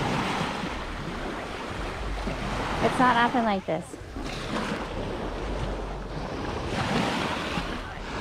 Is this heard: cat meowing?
no